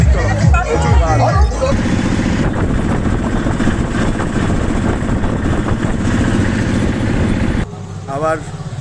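An engine auto-rickshaw rattles along a road on the way to Tarakeswar, its continuous engine drone heard from inside with voices and crowd chatter around it.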